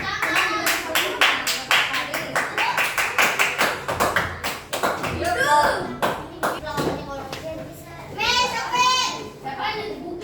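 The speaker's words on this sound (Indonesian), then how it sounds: "Tepuk tangan dulu kita kasih aplaus, sudah bagus ya." Classroom applause, with many pupils clapping quickly and unevenly at close range. Children's voices rise through it and a few shouts ring out near the end.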